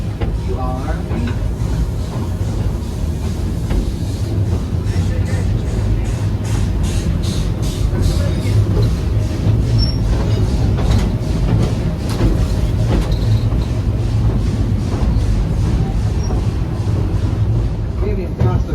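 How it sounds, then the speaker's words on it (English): A small narrow gauge steam train at Roaring Camp in Felton, California rumbles past steadily with a rhythmic chuffing beat under constant loud noise and wind buffeting. "narrow gauge steam train"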